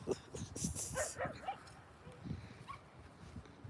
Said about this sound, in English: The puppies would like to get to the other side with the other dogs.